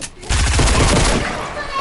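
A loud, sudden burst of rapid gunfire in a video game fills the moment, dense and close, then tails off.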